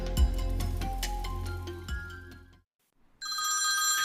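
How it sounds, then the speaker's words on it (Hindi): An old-style telephone bell rings loudly in rapid trills with a low thump at the start, cuts to near silence, then a brighter electronic ring starts up again close by. "टेलीफोन उठाकर ब्योमकेश ने कहा, हेलो।"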